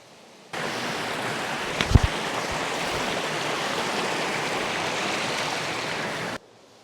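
A river rushing steadily during a creek crossing on a hike after Hurricane Helene near Little Bradley Falls in Saluda, a dense broadband roar close by with a brief knock of a footstep or splash early on, no voices.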